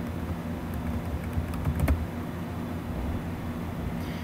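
Quick, light typing on a computer keyboard, a short run of soft key taps that clusters most densely near the middle over a steady low background hum.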